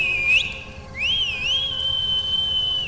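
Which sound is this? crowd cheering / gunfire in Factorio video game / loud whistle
loud whistle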